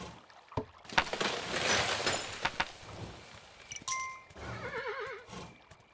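Horse neighing in the video game Kingdom, a whinny rising near the end over game sounds of splashing, clinks and thuds, moderately loud and close, with no talking.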